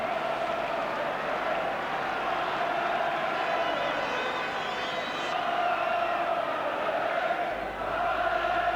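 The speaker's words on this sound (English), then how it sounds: "Halifax crowd singing now, roaring their side on" A Halifax rugby league crowd singing and roaring their side on at a cup semi-final against St Helens, a steady distant wash of massed voices with no single voice standing out.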